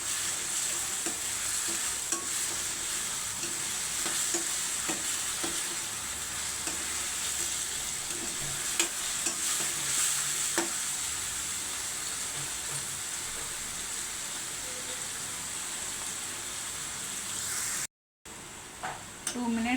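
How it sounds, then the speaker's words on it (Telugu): Mango pulihora ingredients fry and get stirred in a pan, giving a steady sizzle with repeated scraping strokes throughout and a brief dropout near the end. "ఇది పచ్చివాసన పోయే వరకు వేయించుకోవాలి."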